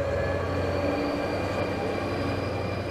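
An express train hauled by a Siemens ER20 diesel locomotive, 223 066, built in 2007, departing Munich on the long run to Prague: a steady, loud rumble of engine and rolling wagons with a sustained tonal hum, no voices.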